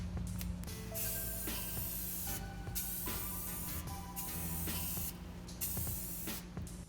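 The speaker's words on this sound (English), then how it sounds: "I just sprayed my second coat on the valve covers" Aerosol spray can painting engine valve covers for an LS6 V8 going into a BMW E30, with several long steady hissing bursts separated by short pauses, close and loud over a faint background hum.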